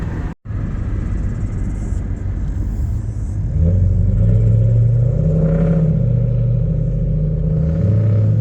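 A 1992 Toyota Soarer idles and revs through freshly fitted, very loud aftermarket mufflers, a raw, deep, steady exhaust rumble that swells louder partway through and stays close and dominant.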